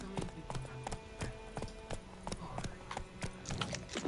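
Roach the horse in The Witcher 3 galloping, with a rapid, uneven clip-clop of hooves at moderate volume over a soft game background.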